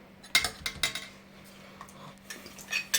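A metal spoon clinks and scrapes against a container while stirring salt into hot boiled water, in several short, bright bursts with quiet gaps between strokes, close up.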